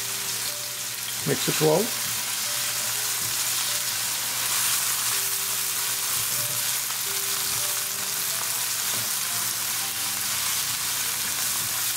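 Onion and cumin sizzling in heated olive oil for a mushroom chicken curry, a steady close hiss running throughout with a brief stirring clatter near the start and a voice speaking briefly.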